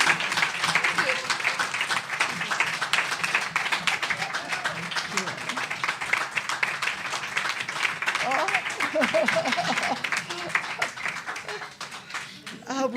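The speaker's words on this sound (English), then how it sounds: "Will the congregation please stand and give our new members the applause and welcome and" A congregation at a Sunday spiritual-living service stands and applauds new members, giving sustained, dense clapping that fills the room, with voices talking over the applause.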